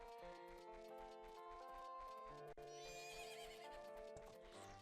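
Epona the horse in Zelda: Majora's Mask, a loud whinnying neigh rising over steady clip-clopping hooves and game music, close and prominent.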